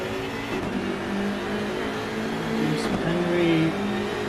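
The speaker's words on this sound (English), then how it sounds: "That beautiful BMW sound. That engine roars like a, I would say tiger" A BMW GT3 race car engine in a sim racing game at Donington Park drones and revs steadily, rising louder toward the end, with no voices over it.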